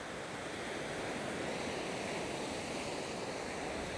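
Ocean waves wash along a Da Nang beach in a steady, soft roar of surf mixed with a little wind. The sound stays even and fairly faint, and no one speaks.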